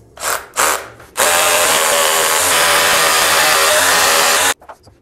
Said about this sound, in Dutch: De rest doen we gewoon met normale boor.